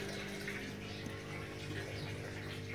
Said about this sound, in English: The nice oxygenated water flowing in here to both my grow beds.